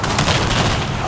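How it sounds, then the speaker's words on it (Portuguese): Gunfire in the video game Battlefield 4, a dense, booming burst of shots and blasts filling the whole moment, loud and close. "É um tiro!"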